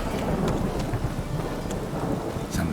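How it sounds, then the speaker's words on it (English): Steady heavy rain and rumbling thunder in the video game The Witcher 3, a dense continuous wash of rainfall with low rolling thunder, no voices. "Rain again."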